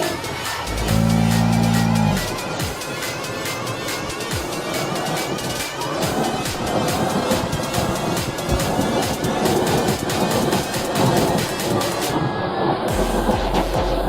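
A Traxxas Maxx 4x4 RC truck drives through snow, its electric motor whining and revving steadily close by, with brief louder bursts of acceleration and wheel spin.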